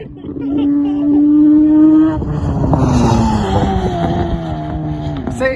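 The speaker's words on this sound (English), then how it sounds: "the back wheel's spinning" A rotary-engined motorcycle roars loudly as the rear wheel spins without traction, the revving whine climbing and wavering with a scraping, skidding edge.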